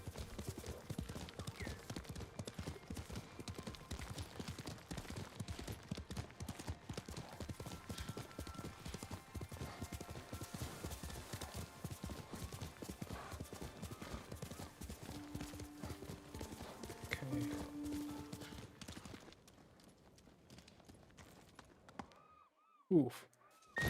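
Horse hooves clip-clop steadily through a Windows video game running on a Mac, a dense rhythmic patter under game ambience and music for most of the stretch before it thins out near the end.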